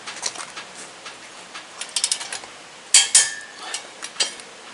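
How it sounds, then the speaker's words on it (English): A ratchet clicking in quick bursts while wheels on a van are torqued, sharp close metallic ticks with short pauses, no talk. "there's nothing glamorous about torquing wheels"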